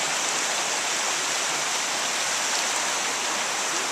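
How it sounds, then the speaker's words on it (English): A creek flows beneath a bridge at a rural property, giving a steady, even rush of water that fills the whole stretch without any voices. "with the creek flowing underneath it"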